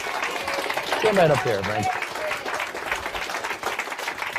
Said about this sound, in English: Give Frank a big round of applause